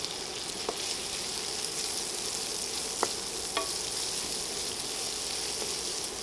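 Onions fry in a pan for an omelette with a constant, even sizzle, broken by a few faint clicks of a utensil stirring; no voices.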